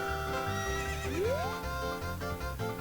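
Epona the horse from The Legend of Zelda: Ocarina of Time gives a loud, rising whinny over a rhythmic game soundtrack, with hoofbeat-like thuds running beneath.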